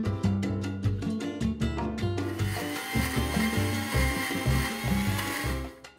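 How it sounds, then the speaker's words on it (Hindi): A kitchen grinder blends chickpeas and olive oil into hummus, with a steady motor whir and churning. Knocks and rattles come first as the paste begins to move. "अब हम इसे ग्राइंड करेंगे।"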